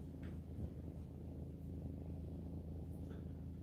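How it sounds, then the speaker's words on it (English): A tabby cat purrs steadily and close up, a low continuous rumble with a soft rhythmic pulse running unbroken through the whole stretch, with no voices over it. "I would say she's a tabby cat."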